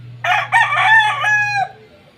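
A rooster crows once, close and loud, a single drawn-out call of about a second and a half over a faint low hum, with no talking.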